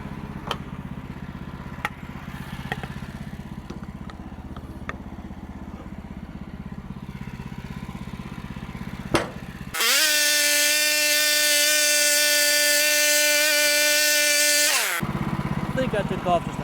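A sawmill slabbing a small log into 1.5 inch boards: an engine idles with scattered knocks, then the blade cuts in with a loud, steady high whine for several seconds before dropping back to the idle.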